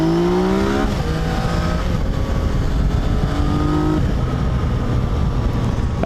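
A 2020 Yamaha Tracer 900 GT motorcycle cruising at a steady 60, heard from the rider's seat: a loud, continuous engine drone with wind rush, the pitch shifting a little as the revs change, and no talk.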